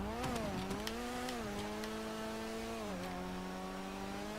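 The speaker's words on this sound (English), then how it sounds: "We'll just give it another welly up here, just to let you hear the sound of the engine." Engine of a Vapid GB200 car in GTA Online, held at a fairly low, steady drone with a few slight pitch dips and rises as it revs, quiet and alone with no talk.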